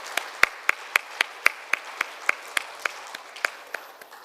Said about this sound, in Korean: 다시 한번 우리 감사와 격려의 박수 해주시면 감사하겠습니다.